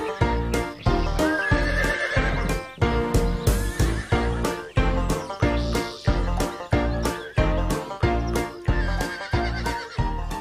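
A horse gallops and neighs in the animated film The Flying Pig: a steady, loud, driving rhythm of hoofbeats, repeated whinnies layered on top, with no talking.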